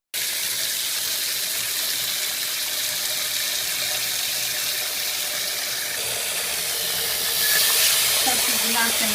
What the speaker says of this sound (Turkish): Ve soğuk suyu açıyorum.